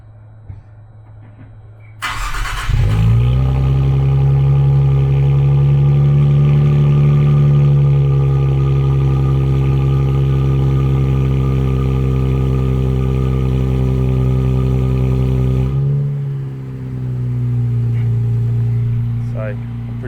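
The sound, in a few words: sports car engine with aftermarket exhaust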